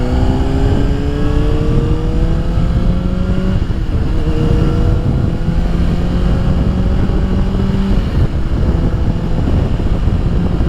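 A 2007 Honda CBR600RR with a flash tune accelerating hard, its engine rising in pitch through several smooth quick upshifts, loud and close with wind rush underneath.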